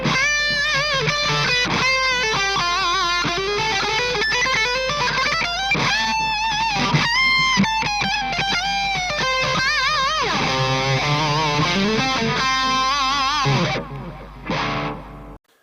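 A sustained, heavily distorted electric guitar, a Telecaster, plays a continuous melodic line with dense, saturated tone, ending in a brief fading note.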